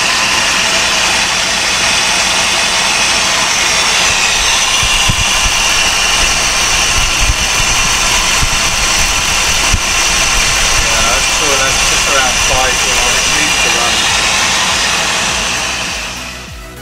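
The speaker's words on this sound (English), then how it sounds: "We got engine running" A rebuilt engine in a 1964 Buick LeSabre Wildcat idles with a steady, loud rumble that continues for the whole stretch before it tapers off at the end.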